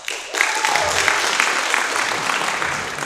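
Audience at a live comedy performance at the Kirchentag 2023 in Nürnberg claps steadily after a quiet start, a dense, sustained wash of applause filling the whole space.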